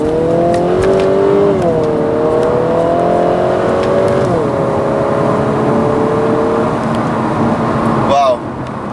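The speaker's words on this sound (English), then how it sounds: "The car accelerates in such poise, but then again, you hear a lot going on in this car." A 2019 Infiniti Q50 2.0t engine revs hard under heavy acceleration, its pitch climbing through several gear shifts, loud and close from inside the cabin.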